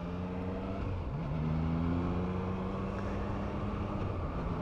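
A 2023 Triumph Trident 660 motorcycle's engine runs smoothly with a steady hum, its pitch stepping up early on and then holding steady, with no talk.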